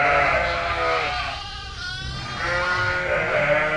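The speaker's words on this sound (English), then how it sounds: "right there, she is one agitated ewe." Agitated ewe bleating repeatedly during lambing season, near and loud with continuous layered calls and a brief quieter gap midway, other sheep sounds mixed in.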